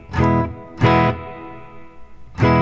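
Three strummed electric guitar chords through a Hall of Fame reverb pedal ring out with a lingering, washy reverb tail between each strike.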